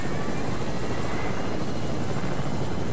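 Helicopter in a video game, a loud, steady rotor thump and engine roar that fills the whole stretch without letup.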